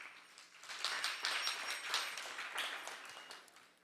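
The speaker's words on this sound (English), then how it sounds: "you can give him a big round of applause" Audience applause at an ISKCON Dallas temple gathering: a faint, moderately dense patter of clapping hands that swells and fades over a few seconds, with no talking.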